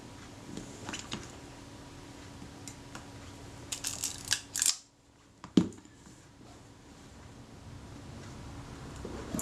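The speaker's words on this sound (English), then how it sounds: "Just going to see what the feel of that shutter release is like in its action." A camera's shutter release is worked by hand on a partly assembled camera, giving a few faint mechanical clicks and one sharper snap against quiet room tone, with no talking.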